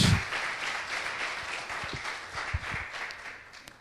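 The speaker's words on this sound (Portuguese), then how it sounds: "Aplauda o Senhor em nome de Jesus." A church congregation claps for the Lord during a service, a sustained fairly soft patter of many hands that thins toward the end, with a thump at the start.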